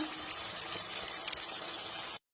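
Spice paste hitting hot oil in a pan already tempered with nigella and fennel seeds, giving a steady, close, bright sizzle that runs about two seconds and then cuts off abruptly.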